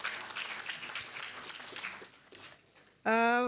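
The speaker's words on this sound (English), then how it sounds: "veuillez applaudir encore une fois Madame Sarah" A conference audience at a Pan-African education event claps for a speaker. The dense applause gradually thins and fades out, and a loud, tonal music sting abruptly follows.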